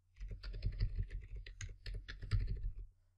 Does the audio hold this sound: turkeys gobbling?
no